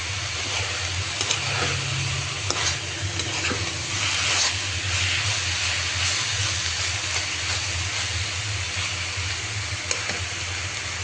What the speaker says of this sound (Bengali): একেবারে কড়া সবুজ করে শাকটাকে ভাজি করতেছি।